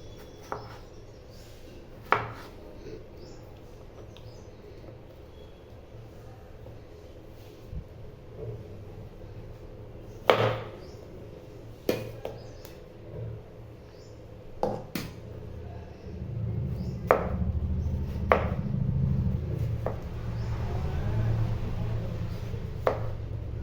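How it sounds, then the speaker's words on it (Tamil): A knife chops bottle gourd finely on a board, with sharp, well-spaced close taps over about twenty seconds and a low rumble rising beneath the later cuts. "இது நல்லா பொடி பொடியாக நல்லா கட் பண்ணிக்கலாம்"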